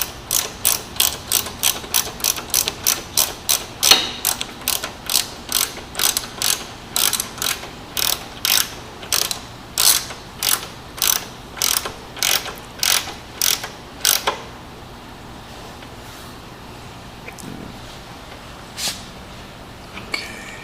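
Ratchet clicking rapidly as a part is tightened on a Harley-Davidson motorcycle, a long run of sharp, evenly spaced clicks close to the mic that slows toward the end, then stops, leaving quiet with a faint knock.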